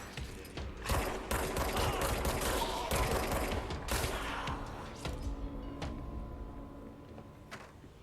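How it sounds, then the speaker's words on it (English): Gunfire in the video game Control, rapid bursts of shots and sharp cracks clustered early, then thinning to scattered single reports amid mechanical clatter, moderately quiet and fading toward the end. "They're shooting at me."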